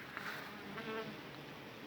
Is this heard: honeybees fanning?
yes